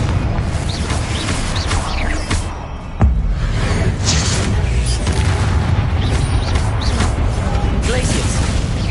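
Confringo fire spell explosions in the Hogwarts Legacy video game, with a sharp blast near the three-second mark sitting within a continuous dense roar of combat effects, booms and whooshes.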